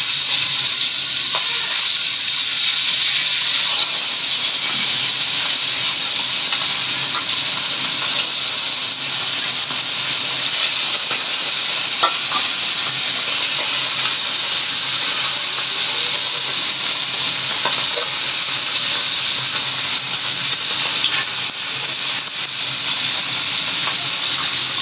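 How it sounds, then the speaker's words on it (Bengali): Fish dropped into hot oil in a pan sizzle with a loud, steady, bright hiss that continues unbroken throughout. "তেলটা গরম হয়ে গেছে, এখন আমি মাছগুলো দিয়ে দেব।"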